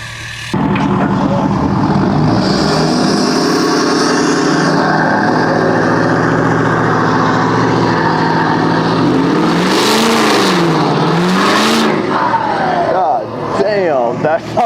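A truck fitted with a turbo-back exhaust revs hard and loud, rising and falling in repeated sweeps with a roaring drone, close and dominant throughout, with a few sharp bursts near the end.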